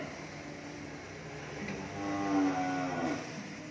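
Cattle at a cattle farm in Mỏ Cày Bắc, Vietnam, give a single drawn-out moo that swells midway and fades, heard over steady farmyard background noise.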